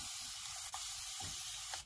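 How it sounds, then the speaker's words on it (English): A spray bottle mists water onto a watercolor palette in two quick hissing bursts, close and steady, with no talking. "Okay, so I'm just gonna spray"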